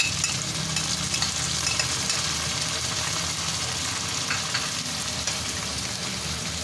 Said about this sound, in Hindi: लहसुन अदरक जब फ्राई होते हैं